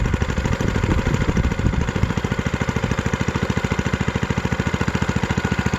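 A small engine powering a homemade all-wood remote control car chugs steadily at a fast, even pulse, loud and close throughout, with a slight rev at the start before settling into a regular beat.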